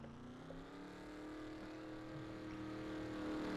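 NASCAR race cars in a video game drone steadily in a pack, their engine roar building slightly toward the start of the race, with no talking.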